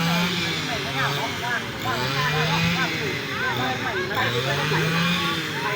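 A tractor engine labours as it pulls up a muddy slope, a steady loud drone with wavering pitch and grinding, while people talk and shout over it outdoors.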